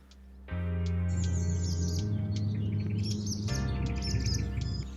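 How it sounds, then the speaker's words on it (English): Busy swallow calls and chirps ring out continuously over a steady low rumble, with a burst of high twittering partway through, at a nature reserve along the Rhine River. "the swallows are a bit loud right now"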